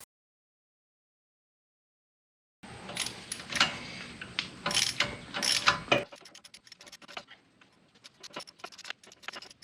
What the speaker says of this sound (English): You think a ratchet can get on there now?